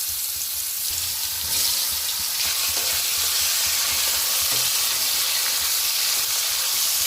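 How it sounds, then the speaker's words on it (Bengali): Mushrooms frying in hot oil in a wok, a steady, close sizzle with bright crackling hiss running throughout, slightly louder after the first moments, with no voices. "কড়াইয়ে আমি তেল বসিয়ে দিয়েছি। তেল গরম হয়ে গেছে। তেলে আমি মাশরুমগুলো ভেজে নেব।"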